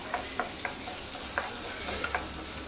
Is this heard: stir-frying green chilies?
yes